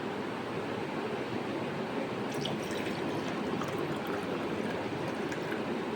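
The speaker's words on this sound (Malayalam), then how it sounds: "ഇനി നമുക്ക് വെള്ളം ഒഴിക്കാം," Ice water poured into a glass for a honey drink, a steady close stream of liquid running for several seconds with light trickling and splashing toward the end.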